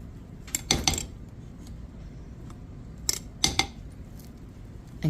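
A spoon scraped against a pot while making hot process goat's milk lavender soap, two brief clusters of sharp metallic scrapes and clinks, close by, with quiet room background between.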